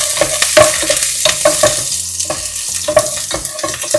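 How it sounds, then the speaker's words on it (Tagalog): Ginger sautéing in a little oil for chicken curry sizzles loudly up close as a spatula scrapes and stirs it in quick, repeated strokes against the pan, with no talking. "Ngayon naman po, magigisa na tayo. Igisa na po natin ang luya."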